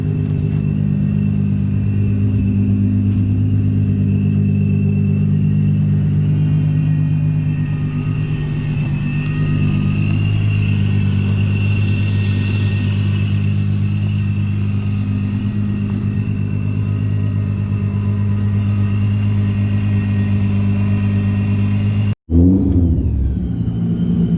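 A Toyota Century's engine idles steadily at close range throughout, a deep continuous rumble while the car is unloaded from a trailer, ending in a brief sharp knock near the close.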